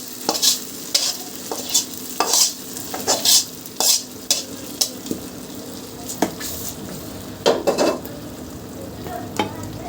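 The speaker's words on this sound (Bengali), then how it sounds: "এটা এখন খিচুড়ি হওয়ার মধ্যে তেলে দিয়ে দিই।" A pot of khichuri sizzles in oil while a spoon scrapes and stirs it in repeated sharp strokes, close and fairly loud over a steady frying hiss.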